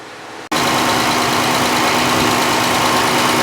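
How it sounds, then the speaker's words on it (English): A 2014 Dodge Grand Caravan engine with a cylinder misfire starts up abruptly and then idles close to the microphone, giving a loud, steady hum with a faint underlying tone. "But there's a kick from the back of the engine."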